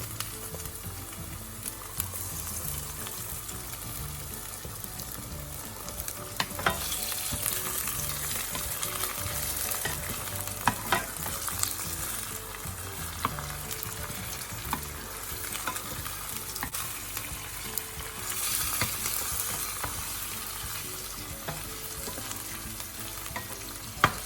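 Chicken pieces frying in a pan with garlic and onion for a kudu rice dish, a steady close sizzle with scraping stirs and occasional sharper pops throughout, no talking.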